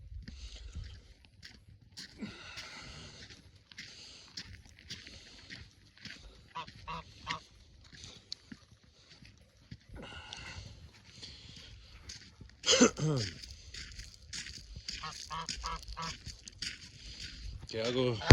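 Geese honk in scattered bursts as they are let out of their pen, with one louder honking outburst midway, while chickens and a person talking quietly can be heard in the background.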